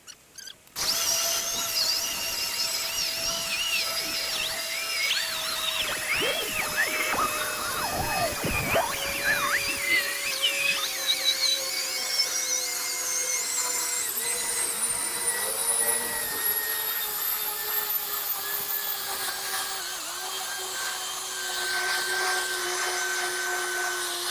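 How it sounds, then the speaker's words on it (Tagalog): A grass-cutting machine runs continuously in a garden, its motor whining steadily with a rising and sliding pitch as it works through the grass, loud and close with no talk. "Continue na tayo sa pagkakat ng grass guys."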